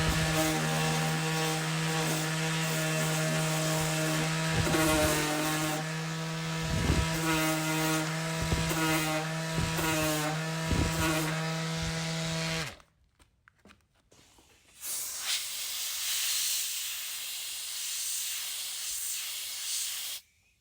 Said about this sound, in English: I'm going to get the sander and I'm going to hit it with a light sanding